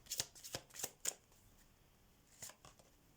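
Oracle cards are shuffled in quick, soft riffling bursts, a few crisp flutters close by, then a pause and one more brief shuffle.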